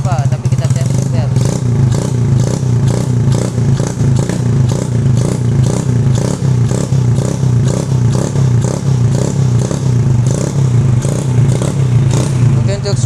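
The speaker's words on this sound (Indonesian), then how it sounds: "Oke, kita langsung saja tes geber." Honda C70 motorcycle fitted with a Shogun Edo Pro Series racing CDI, engine revved hard and held at high idle, loud and close with a dense, steady exhaust roar and rattling clatter throughout.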